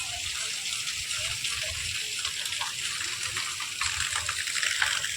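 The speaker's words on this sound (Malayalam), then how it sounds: "നല്ല വെള്ളത്തിൻ്റെ ഫൗണ്ടൻ ഉണ്ടാക്കി വെച്ചേക്കുന്നു" Water gushes and splashes steadily from a fountain, a continuous bright spray that swells slightly toward the end, with no voices over it.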